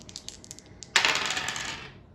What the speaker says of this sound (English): The game is played by rolling 2 dice